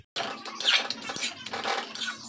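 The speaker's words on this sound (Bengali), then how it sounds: "একদমই সামান্য একটু হলুদের গুঁড়ো দিয়ে আমি খুব ভালোভাবে নাড়াচাড়া করে নেব এবং মিশিয়ে নেব" Radish (mulo) greens are tossed and stirred with a pinch of turmeric in a pan, producing a steady close rustling and scraping with light metallic clinks throughout.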